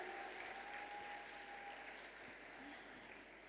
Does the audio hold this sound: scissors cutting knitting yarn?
no